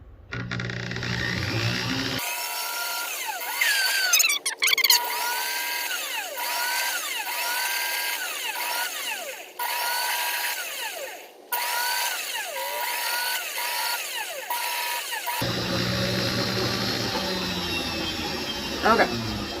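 Opal being ground by hand on 500 grit sandpaper, a close, scratchy rasping in repeated strokes, each with a rising swish, with brief knocks and a short pause midway.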